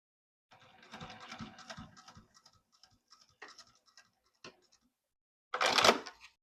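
A sewing machine stitches a zipper onto a purse in short, uneven bursts of rapid needle clatter separated by pauses, ending with a louder, busier run of stitching.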